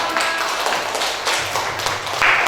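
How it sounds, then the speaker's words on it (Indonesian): Students in a classroom clap for a presenting group, a short burst of scattered, uneven handclaps with some background chatter mixed in. "Tepuk tangan dulu untuk kelompok"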